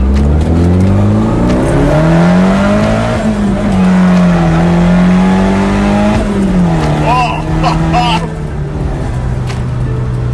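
Nissan SR20DET engine in a Datsun with a custom exhaust, revving loudly and steadily close by, its pitch rising and falling, with sharp crackling exhaust pops near the end; a voice is faintly present.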